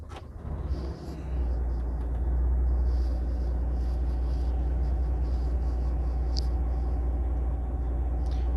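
A Volvo automatic truck engine turning over and settling into a steady, deep idling rumble, close and continuous with faint rattles on top.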